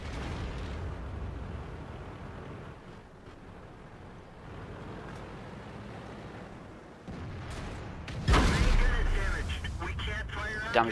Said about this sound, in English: Damages my gun with another heat shot.